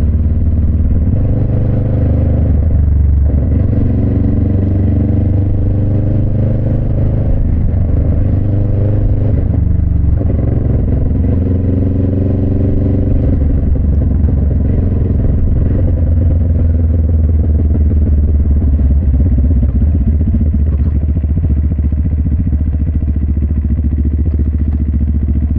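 A CLX 700 adventure motorcycle idles steadily close by, a continuous low rumble with a slight mechanical clatter and a few gentle throttle swells, no voices over it.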